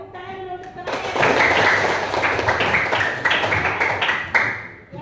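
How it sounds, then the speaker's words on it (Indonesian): A classroom of children claps for a classmate, a burst of close, fairly loud applause lasting several seconds. A teacher speaks briefly just before the clapping starts. "tepuk tangan dulu untuk temannya"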